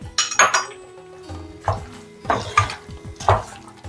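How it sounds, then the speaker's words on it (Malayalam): Metal spoon clanking and scraping in a pot while ground coconut and cumin paste is stirred into a kootucurry, a few distinct clinks in bursts with quieter scraping between. "എല്ലാം കൂടി ഒന്ന് നന്നായി ഇളക്കിയാക്കിയിട്ട് നമുക്കതിലേക്ക് അരവ് ചേർക്കാം"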